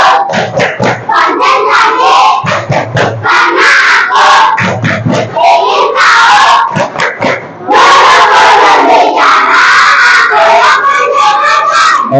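Students in an Indonesian classroom perform the 'tepuk konsentrasi' clapping chant, loud group chanting with sharp rhythmic hand claps in quick patterns, continuous and close, with a brief lull before a final energetic burst.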